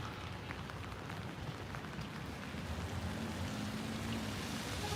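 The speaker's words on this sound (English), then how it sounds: "I just let the rain speak for itself." Steady rain falls on a Manhattan street on the Upper West Side near Lincoln Center, a continuous hiss and patter with a faint low tone partway through and no talking.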